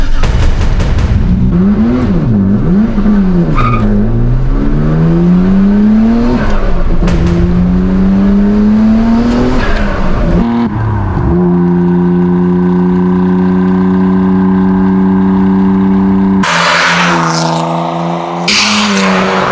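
A Nissan R32 GT-R engine revs hard while driving, pitch rising and falling through repeated throttle blips and gear changes, then settling into a steady loud drone with a burst of higher-pitched roar near the end, close and alone.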